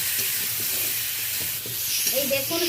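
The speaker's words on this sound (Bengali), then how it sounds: "এই দেখুন হালকা লালচে করে আমি আমটা ভেজে নিলাম ফোড়নের সাথে" Mango pieces fry in hot oil with tempering spices for a Bengali mango chutney, giving a steady, close sizzle and hiss. Utensil scrapes and stirring clatter cut through, and a voice talks briefly near the end.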